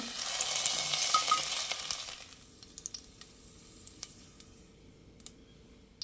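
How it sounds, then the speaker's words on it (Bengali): Potatoes frying in oil in a pan, a bright sizzle that fades after a couple of seconds, followed by quiet scattered clicks and taps of a utensil, close and fairly faint. "আলুগুলো হালকা ভাজা হয়ে গেছে, এবার আমি আলুগুলোকেও তুলে রাখবো।"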